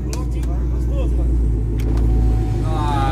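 A Chevrolet Montana with a manual gearbox idling up close, a deep steady low rumble with a throbbing pulse throughout and a slight rise in revs near the end, while people talk over it.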